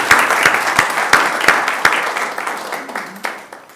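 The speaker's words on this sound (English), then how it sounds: "So let's give a round of applause to the volunteers and to the donors" An audience in a sanctuary at a book festival applauds volunteers and donors: loud, full crowd applause with a few distinct, evenly spaced claps standing out, gradually thinning toward the end.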